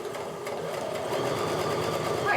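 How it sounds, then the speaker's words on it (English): A sewing machine runs a quarter-inch seam on a charm pack quilt table runner, with a rapid, even mechanical stitching chatter at close range that holds steady throughout, with a voice talking over it. "So I'm getting going on sewing here"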